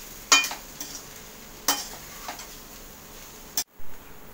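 Poha stirred in a pan over a low-medium flame, a few sparse scraping strokes with a faint background sizzle, fairly quiet and with no voices.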